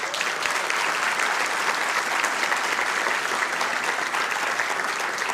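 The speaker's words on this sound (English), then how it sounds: "let's give them a big round of applause." Applause for city employees fills a council chamber during a special city council meeting, a dense, even wash of many hands clapping that holds steady and loud for over five seconds with no talking over it.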